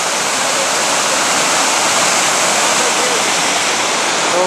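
Waterfall spilling over a dam on Steele Creek, a loud, steady broadband roar of rushing water that fills the whole stretch without pause.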